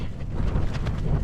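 Strong night wind at a campsite buffets the microphone in a dense, rumbling roar with brief surging gusts, close and loud.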